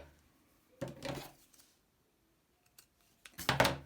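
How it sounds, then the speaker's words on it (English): Scissors snip through the leftover tail of velvet crochet yarn on a finished scrunchie, two close crisp cutting bursts separated by near silence, with faint ticks between them. "And then I'm going to cut the rest off."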